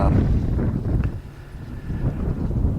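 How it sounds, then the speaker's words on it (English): Gusty wind blows outdoors at the Ocotillo wind turbine site, a rumbling, buffeting roar across the microphone that swells and eases over a few seconds. "up and down winds that we have out here"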